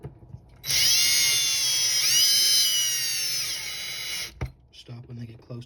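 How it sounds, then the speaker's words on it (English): A cordless drill drives screws into an RC car differential case, one loud continuous whine lasting several seconds that dips slightly midway, then stops abruptly before a few quiet clicks and handling noises. "I use a drill, you can do it by hand."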